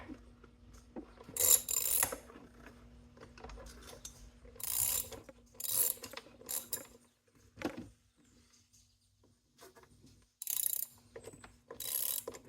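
A roller skate plate mount being twisted and tightened, giving several bursts of close ratcheting clicks separated by quiet pauses.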